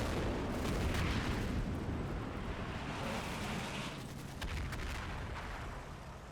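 Quick-firing guns shoot repeatedly in the Combat Mission: Battle for Normandy war game, a steady dense rumble of booms and reports that stays loud throughout with no voices.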